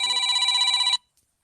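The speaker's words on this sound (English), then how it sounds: "my phone rang" A phone rings loudly and steadily for about a second with a bright, buzzing electronic trill, then cuts off abruptly into silence.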